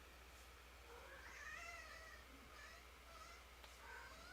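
A pet cat meows a few times, soft and fairly quiet, with short harmonic calls spread across a few seconds over a low steady hum and no talking.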